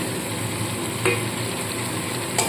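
Ground coriander, dry chilli and turmeric powder fry with a fish head for a masoor dal, giving a steady, dense sizzle with a couple of brief utensil taps against the pan.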